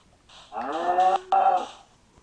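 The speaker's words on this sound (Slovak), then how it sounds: "Kraváky." Cows mooing in the Minecraft Pocket Edition video game: two drawn-out, loud moos in close succession, heard alone without talk over them.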